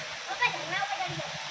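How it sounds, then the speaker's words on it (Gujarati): Small forest stream and little waterfalls in the Jesor wildlife sanctuary, Banaskantha, a faint splashing rush of flowing water heard under a person talking nearby. "મસ્ત પાણી વહી રહ્યું છે"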